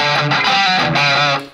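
Electric guitar played through a Behringer GM108 amp with the mode switch up, UK speaker setting and gain maxed, producing a loud, heavily distorted sustained chord with a brief pause, close and alone.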